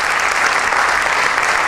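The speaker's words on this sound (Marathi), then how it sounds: "जोरात टाळ्या वाजून आपण यांचं अभिनंदन करायचं" An audience at an awards ceremony breaks into loud, dense applause, steady clapping from many hands filling the whole stretch with no voices on top.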